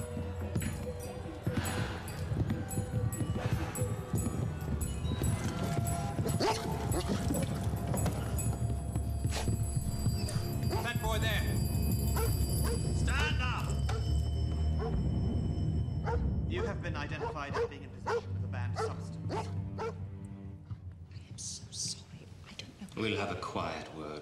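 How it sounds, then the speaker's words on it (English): A Chocolate Labrador barks and yips in short bursts nearby, mixed with whimpers and whispered voices throughout. "Seems our dog demonstration has started early."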